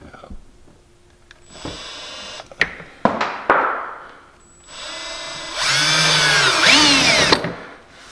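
A power drill whirs in several short bursts and then a longer, louder run while tightening bolts on a rear storage box for a Can-Am Maverick X3, with clicks and clanks of handling between bursts.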